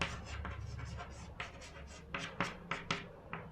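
Chalk or marker tapping and scraping on a board as numbers are written, a series of short distinct strokes in quick rhythm, close and fairly quiet.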